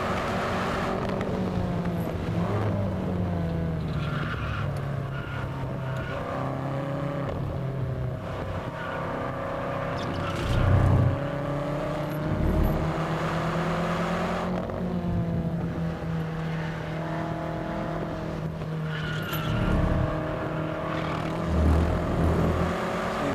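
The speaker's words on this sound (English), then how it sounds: "you can come out on a track and do this" A BMW M5 at full pace on the Buddh International F1 Circuit, its engine roaring loudly and continuously with rising and falling revs through repeated gear changes and brief louder surges, heard from inside the car.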